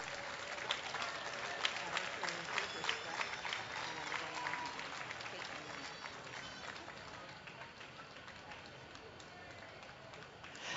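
Audience applause for a woman and her costumed llama crossing the ring at the Minnesota State Fair llama costume competition, a steady patter of clapping from a fair crowd that runs the whole time under a busy outdoor din.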